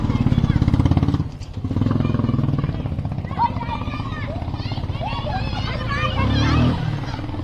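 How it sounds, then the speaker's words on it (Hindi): A motorcycle rides through narrow neighbourhood lanes, its engine droning steadily up close with small shifts in pitch, while voices talk over it throughout. "हमें भी बाइकें बहुत पसंद है और आज हम बाइक चला रहे हैं"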